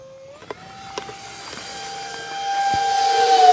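E-flite Habu SS 50mm electric ducted-fan RC jet flying around, a rising turbine-like whine that swells steadily louder and higher as it approaches, with a few faint clicks and no speech.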